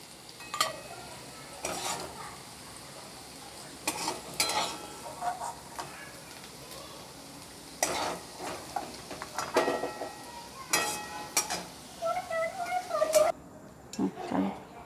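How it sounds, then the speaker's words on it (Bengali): Potato pieces frying in oil in a home kitchen sizzle softly while a spatula stirs and scrapes the pan in repeated bursts. "আলুটা ভাজা ভাজা হয়ে গেছে,"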